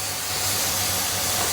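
Whole spices sizzle in hot oil: black cardamom, cloves, green cardamom and curry leaves for Lahori chickpea curry, giving a steady, close, hissing fry with no talk.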